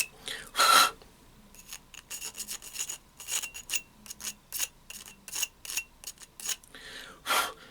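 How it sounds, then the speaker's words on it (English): A small sander works over a drilled pipe trap in a series of short, rhythmic rasping strokes, close and fairly loud, with brief pauses between them. "Now I'm just going to take this little sander here. I'm just going to kind of sand that off."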